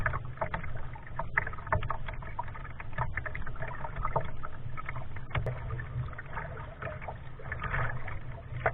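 A paddle works through saltwater on the Banana River in Florida, with steady splashing, light trickles and drips from the blade close by and no talk.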